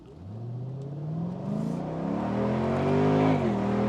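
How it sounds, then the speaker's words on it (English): A Mercedes-Benz SLK55 AMG's exhaust revs up steadily, the engine note climbing in pitch and growing louder over a few seconds, close and continuous. "I am so looking forward to hearing that exhaust note now"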